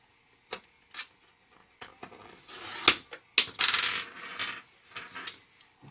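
A paper tag cut with a WRMK tag punch gives a series of sharp clicks and snaps, one louder crunching cut in the middle, with a rustle of handling around it, close and fairly quiet.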